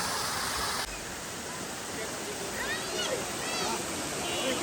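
A mountain waterfall roars steadily nearby in a broad, constant wash of rushing water that fills the whole clip.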